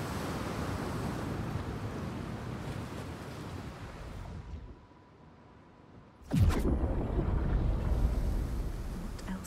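Ocean surf in the video game Hellblade II rolls as a loud, broad wash that falls quiet for about a second, then returns with a sudden surge of crashing water and keeps roaring.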